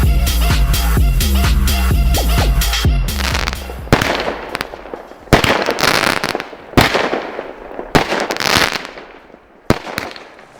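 Fireworks rockets launch and burst outdoors, a rapid crackling volley at first giving way to several loud, separate booms spaced a second or two apart, each trailing into a fading rumble.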